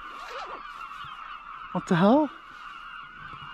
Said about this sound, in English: The birds are mad, aren't they, listening to them? Absolutely mental.